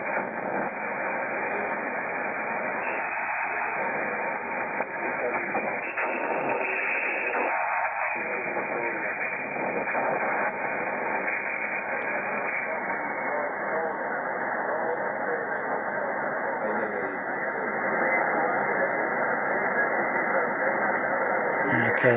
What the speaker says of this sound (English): Not the strongest of signals. Band sounds very noisy.